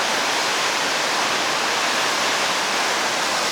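A waterfall at Chichkan in Kyrgyzstan gives a loud, constant, close roar of rushing water. The dense hiss stays steady and unbroken throughout, with no other sounds.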